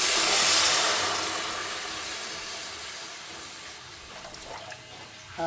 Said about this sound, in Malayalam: അതിലേക്ക് നമുക്ക് ശർക്കര പാനി ഒഴിച്ച് കൊടുക്കാം. ഉരുക്കി വെച്ച ശർക്കരയാണ്.